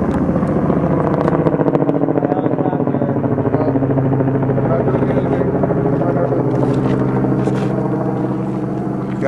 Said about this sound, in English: Helicopter, man. Here they come.